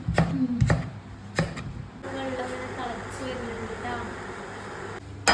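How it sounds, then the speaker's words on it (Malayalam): A knife thinly chops carrot, capsicum, tomato and onion on a board: a few sharp, close strikes at the start, then quieter cutting beneath a steady background hum while someone talks. "ഇത് മൂന്നും നാലും കൂടി ചെറുതായി കനം കുറച്ച് അരിഞ്ഞെടുക്കണേ"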